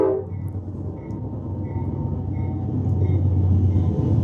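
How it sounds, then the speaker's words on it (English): A train rumbles past nearby in Bedford, a low heavy roar that builds steadily louder with faint high squeals on top. "here comes the train. We'll let it go by real quickly."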